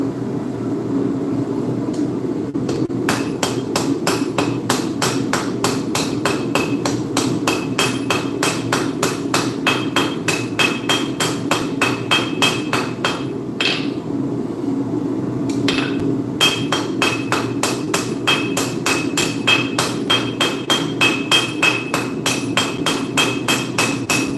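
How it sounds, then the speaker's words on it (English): Steady, rapid hammer blows on heavy steel while a punch is forged, struck loud and close in an even rhythm for most of the stretch, with two brief pauses between runs of ringing metallic impacts. "Better hammer that thing's fucking heavy."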